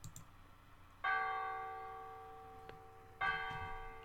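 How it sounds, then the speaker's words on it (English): Church bells in the game The Last Door toll twice, each strike ringing out with a long, slowly fading shimmering hum over a quiet, dim background. "The bells of the church."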